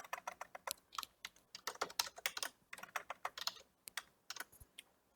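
Keys click on a computer keyboard in quick, uneven bursts, close and fairly quiet, with short pauses between runs of typing and no voices.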